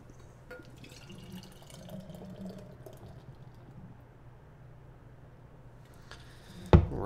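Beer, a hazy Spindletap Juiceton ale, streams steadily and faintly from a can into a glass, ending in a sharp clink near the close.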